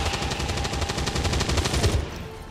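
Rapid automatic gunfire in XCOM 2, a steady stream of loud close shots for about two seconds before cutting off abruptly.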